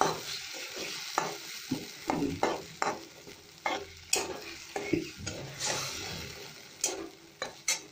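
Spice paste of tomato, ginger, bay leaf and chili paste being fried and stirred in a pan for a Bengali chitol fish muittha dish, a steady close sizzle broken by repeated scraping stirs and light utensil knocks, with no voices.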